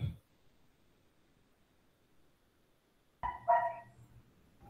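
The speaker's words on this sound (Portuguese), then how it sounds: "eu só vou pedir desculpa se vocês escutarem zoada de latido de cachorro, porque tá horrível aqui em casa" Indoors at home, a dog gives a short burst of barking, a couple of loud close yaps after a near-silent stretch, with a brief thump at the very start.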